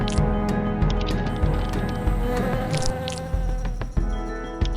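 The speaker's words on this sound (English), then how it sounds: "So the bees begin to fan it, drying it out with their wings." A steady, dense buzzing hum of bees fanning honey with their wings fills the recording, continuous and fairly loud with small rhythmic pulses and no voices.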